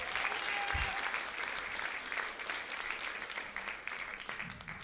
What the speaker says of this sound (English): So please give a round of applause to Alex